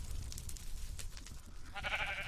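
Minecraft sheep bleating in a hardcore survival game, a brief wavering harmonic call rising near the end over a low rumbling game background with faint clicks.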